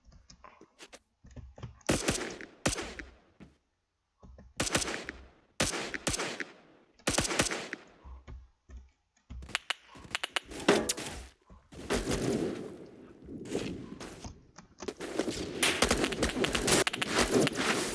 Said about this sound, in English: Secondary machine gun pistol.